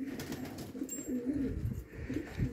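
Pigeons on a rooftop give repeated low, throaty coos in an uneven rhythm, close and moderately loud, with a faint flutter and light background noise.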